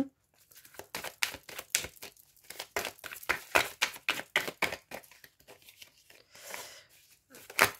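Tarot cards laid out one after another on a table, a close run of crisp papery slaps, rustles and crinkles in uneven rhythm, with a brief softer shuffling stretch near the end.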